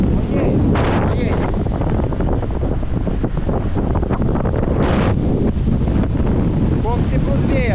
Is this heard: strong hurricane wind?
yes